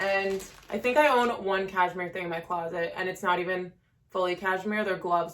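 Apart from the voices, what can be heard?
No everyday noises stand out.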